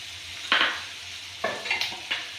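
Ingredients for chilli chicken sauté in a pan under a soft, steady sizzle, broken by several sharp scrapes and clinks of a spoon stirring against the metal.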